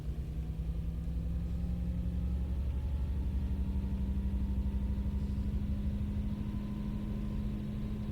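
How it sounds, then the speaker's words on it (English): Steady low diesel engine hum from a Metrolink F59PHR locomotive in the train simulator Train Sim World 5, a continuous near rumble with a faint rising tone, heard alone throughout. "Proper engine hum into it."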